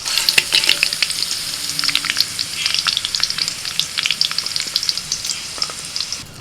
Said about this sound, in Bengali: কাজু কিশমিশগুলো একটু হালকা করে ভেজে নেব